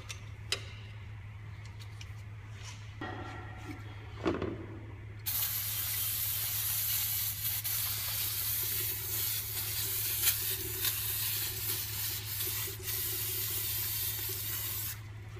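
Brake cleaner sprays in a long, steady hiss over the rear brake backing plates of a Ford Escape or Mazda Tribute, preceded by a few faint clicks and taps in a quiet garage.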